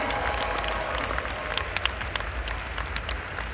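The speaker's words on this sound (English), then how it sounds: "they all deserve a big round of applause too" Festival crowd at a vegan camping event applauding, a dense, continuous wash of clapping from many hands with a few sharper claps poking through, loud and sustained throughout.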